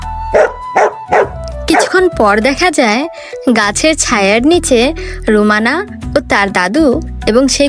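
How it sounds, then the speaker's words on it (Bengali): A cartoon dog barks and yips in short bursts, mixed under continuous narration. "কুকুরটি তখনই ঘেউ ঘেউ করে লেজ নাড়ে।"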